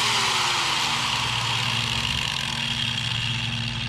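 An All American Sharpener lawn mower blade grinder starts and runs at steady speed, a loud, continuous motor whine with a constant hum and a pitch that settles quickly, nobody talking.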